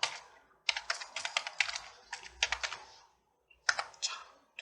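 Someone types a number into accounting software on a computer keyboard, sending quick bursts of crisp key clicks close to the mic with a short pause before a final burst.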